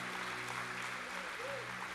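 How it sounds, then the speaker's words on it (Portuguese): Church congregation applauding during a live worship service, a steady wash of clapping under a faint sustained hum. "você dá a sua melhor salva de palmas a Deus"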